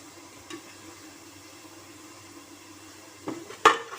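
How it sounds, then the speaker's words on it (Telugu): Korameenu fish curry simmers and fries in a pan, a steady low sizzle and bubbling running throughout with a couple of brief clinks near the end; no one talks. "ఇప్పుడు ఆయిల్ పైకి తేలే వరకు వేయించుకుందాము కర్రీ ఉడుకుతోంది"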